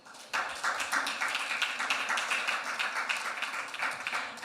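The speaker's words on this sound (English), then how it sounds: "can I get a warm applause for Esther?" Warm audience applause at a COP28 climate justice panel, rising abruptly into a steady, dense crowd clapping that carries on evenly for several seconds, with a voice faintly starting to speak near the end.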